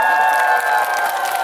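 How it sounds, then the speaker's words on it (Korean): An audience at a Korean stage variety show in Sancheong applauds and cheers, a dense, steady wash of clapping held loud throughout over a sustained musical tone. "박수 한번 힘차게 보내주세요"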